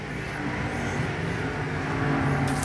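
IMCA SportMod race cars lapping the Arizona Speedway dirt track during a heat race, a dense continuous engine roar that swells slightly toward the end, loud and steady.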